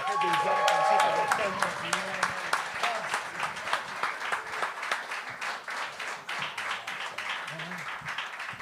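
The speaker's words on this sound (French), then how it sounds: "je vous ai fait applaudir longtemps" Audience applause on a French-language comedy talent show stage, a steady wash of many hands clapping that runs the whole stretch, with a brief musical tone and a voice near the start and scattered voices underneath.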